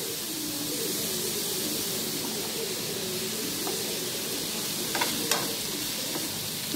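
Mushrooms, brinjal and mixed vegetables fry in a pan with a steady dense sizzle and occasional stirring scrapes, while a few faint bird calls sound in the background.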